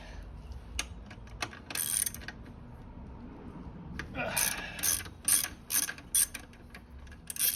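Ratchet wrench clicking while loosening 12 mm bolts from the engine guard of a Honda Dax125, short bursts of rapid clicks in several bouts, close and fairly loud, with no talking.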